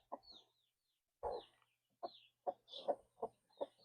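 A broody hen makes soft, low clucks and grumbling calls in short irregular bursts, close and quiet, with no talking.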